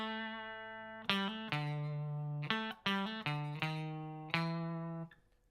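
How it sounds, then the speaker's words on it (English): Clean electric guitar through a Boss CP-1X compressor pedal with attack at minimum: a sustained chord followed by several quick strummed chord changes, each ringing evenly with little pick transient, alone and close. "We start out with the attack all the way down and it sounds like this."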